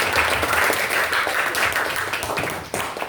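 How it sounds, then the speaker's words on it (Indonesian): Applause from a class of schoolchildren in an informatics lesson, a dense steady patter of many hands clapping together for about three seconds, close and fairly loud, fading slightly at the end. "Oke, beri aplaus buat kita semua."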